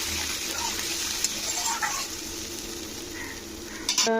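Ginger-garlic masala sizzles and hisses steadily in a pan right after water is added, while cooking a pangas fish curry with green tomato. A light clink of a utensil comes near the end.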